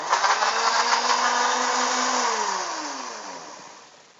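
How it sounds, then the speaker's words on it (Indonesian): A kitchen blender whirs loudly and steadily, then its motor pitch slides downward as it winds down and fades, with no voices. "Selanjutnya kita blender"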